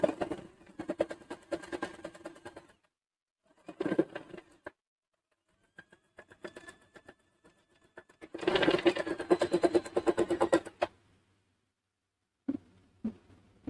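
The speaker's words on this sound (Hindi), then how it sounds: "अब आपने सिलाई लगानी है।" A sewing machine stitches salwar fabric in short, close bursts separated by quiet pauses, with one longer run of stitching in the middle.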